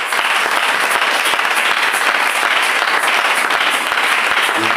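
Congregation at a jubilee church service applauding and cheering for the Lord, dense sustained clapping filling the space at steady loudness, with crowd voices mixed in.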